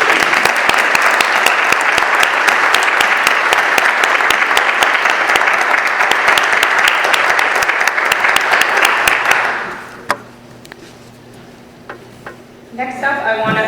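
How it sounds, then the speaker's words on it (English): A room at a school committee meeting breaks into a round of applause, loud dense clapping for about nine seconds, then a sudden drop to near quiet with a few stray claps and faint noise. "And I think that would deserve a round of applause"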